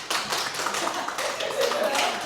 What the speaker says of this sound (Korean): 우리 정대님 박수 한번 하겠습니다